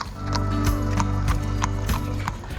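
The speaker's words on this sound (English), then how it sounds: "we saw the beautiful sight of a horse-drawn buggy coming through a bridge." A horse-drawn buggy clip-clops through a covered bridge, with close, loud, evenly spaced hoof strikes and a faint mechanical rattle of the wheels underneath.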